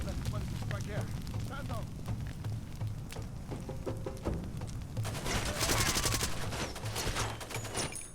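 Explosions and gunfire in the first-person shooter Far Cry 2, a loud rumbling blast swelling midway through a steady barrage of shots, with a voice speaking over the combat.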